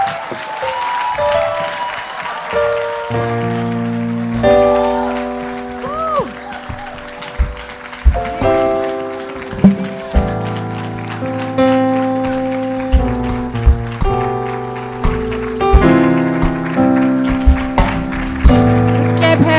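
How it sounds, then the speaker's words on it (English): An audience claps at a women's day event at a college, the applause rolling on steadily for about twenty seconds beneath loud sustained music with distinct tones. "Let's clap hands for the college director."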